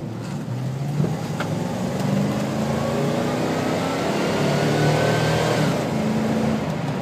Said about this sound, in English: As you see, very, very smooth acceleration.